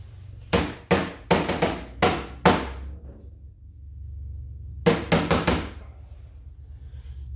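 Dust being shaken out of a Ryobi PCL704 18V cordless hand vacuum, heard as two bursts of sharp knocking taps, five quick raps and then four more after a pause, close and loud over a low steady hum.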